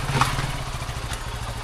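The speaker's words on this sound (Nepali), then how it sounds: "यतातिर बाइक पार्क गर्न लागिरहेको छ" A motorcycle being parked near a house, its engine running steadily up close with a low rumble and a brief clatter early on.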